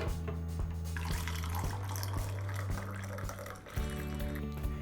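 Water runs and splashes steadily as packet dashi mix is stirred into two cups of water in a home kitchen, continuous and close with a brief shift near the end.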